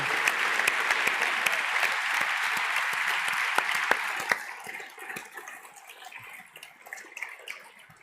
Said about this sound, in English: Could we please have a round of applause?